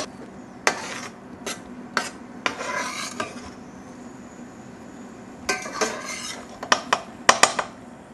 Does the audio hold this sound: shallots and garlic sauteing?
yes